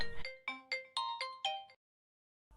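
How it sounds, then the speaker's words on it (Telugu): A mobile phone rings with a bright, tonal ringtone of about six quick pulses that stops abruptly, close and clear, followed by near silence. "ఎవరో ఎవరో కాల్ చేస్తున్నారు"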